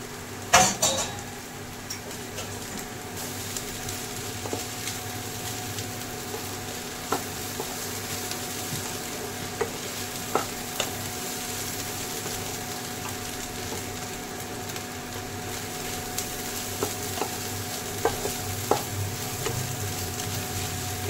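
Leftover fried potatoes sizzle steadily as they are stir-fried in a pan, with a continuous close frying hiss punctuated by occasional clinks and scrapes of a spatula against the metal.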